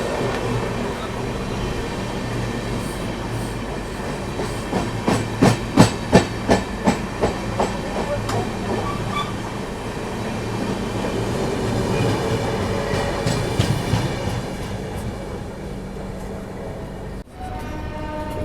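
Steady rumble of an Indian passenger train on the New Delhi–Patna special route, running on rails as another train passes at a crossing, with a loud run of rhythmic clickety-clack beats partway through, then a brief drop and a return to the rumble.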